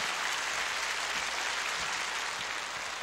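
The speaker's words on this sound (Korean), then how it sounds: "여러분 다시 한번 많은 박수를" Audience applause at a Korean televised music show, a dense steady wash of clapping filling the hall, even and sustained throughout with no voices over it.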